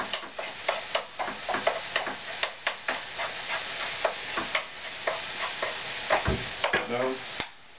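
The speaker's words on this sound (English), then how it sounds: "I'm smashing I'm breaking these fishes apart as much as possible" Fish pieces being mashed and broken apart in a pan, heard as repeated sharp scraping and tapping strokes over a steady sizzle, fairly close and moderately loud.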